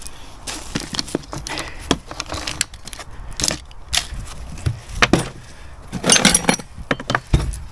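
Mortar being chipped out of a house wall with a plug-in chisel, giving irregular sharp knocks and scraping strikes at close range, with a dense burst of impacts near the end.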